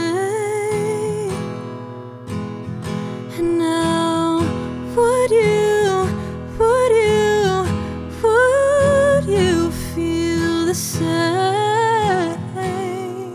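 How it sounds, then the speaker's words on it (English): An acoustic guitar strums chords beneath a sung vocal melody, both close and full, recorded together through an Austrian Audio MiCreator microphone system, with brief pauses between phrases. "we were able to record an acoustic guitar and also the vocal all through a single USB cable"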